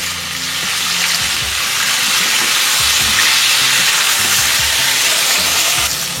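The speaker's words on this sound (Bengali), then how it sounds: "সামান্য হলুদ আর নুন দিয়ে এটাকে খুব ভালো করে একসাথে ভেজে নেব" Potato and drumstick pieces frying with turmeric and salt for a mustard-poppy seed curry, a loud dense sizzle with rustling stirring throughout, very close.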